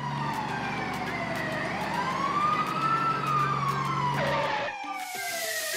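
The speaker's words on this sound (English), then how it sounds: "It's a fire engine." A toy fire engine siren in a children's play set wails up and down steadily and loudly, then cuts off near the end as a harsher burst of noise takes over.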